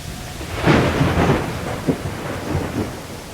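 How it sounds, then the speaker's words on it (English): A heavy thunderstorm with steady rain on surfaces and rolling rumbles of thunder building and fading, loud and continuous with no voices. "a great big storm blows through."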